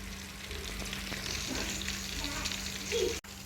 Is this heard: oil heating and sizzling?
yes